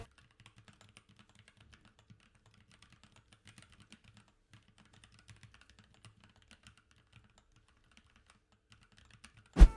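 Fingers type steadily on a keyboard fitted with Gateron G Pro 2.0 Yellow linear switches, producing soft, rapid, muted clicks at close range, with a sharp louder knock at the very end.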